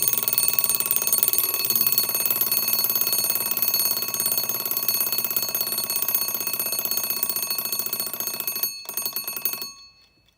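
A Seth Thomas Baby Ben alarm clock in a Catalin plastic case, set to loud, rings with a rapid, continuous metallic bell clatter for about nine seconds, breaks off briefly, resumes, then stops abruptly.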